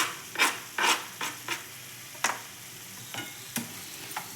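Mushroom palya fries in a pan as coriander leaves are stirred in, giving soft sizzling under a series of sharp, irregular scrapes and taps of a spoon against the pan, with no voices.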